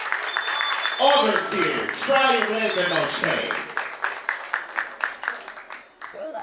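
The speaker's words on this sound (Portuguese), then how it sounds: "Mais aplausos. Mais alto." Audience clapping rises at a ballroom Microball event: a dense crowd applause sits under a host's amplified speech at first, then breaks into sharper, uneven claps that carry on alone toward the end.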